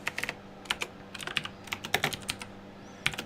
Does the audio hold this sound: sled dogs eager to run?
no